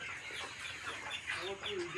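Sonali super hybrid chickens, raised 48 days for sale, cluck and murmur quietly at close range in a soft, overlapping chorus with a faint background hum.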